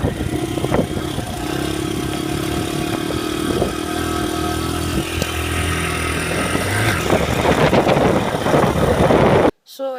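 A Honda CRF 100F motocross bike runs with a steady buzzing engine note, revving up and down as it rides through a field, loud and close, ending abruptly.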